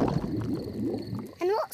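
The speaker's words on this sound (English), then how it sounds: "My tummy rumbling is one of the best sounds of nature." A cartoon stomach rumbles with a low, bubbly gurgle for over a second, ending in a short, higher, wavering tone; fairly close and moderately loud.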